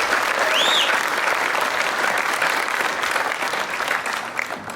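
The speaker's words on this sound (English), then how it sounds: "I think that's a round of applause" A Comic-Con audience at a Mortal Kombat Legacy panel breaks into a round of applause, with steady, fairly loud crowd clapping throughout and a faint voice briefly rising over it.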